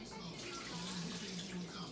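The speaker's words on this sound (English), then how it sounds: "let me drain these potatoes off" Water pours steadily off boiled potatoes in a kitchen as they are drained, a continuous rushing splash close by, with a faint voice underneath.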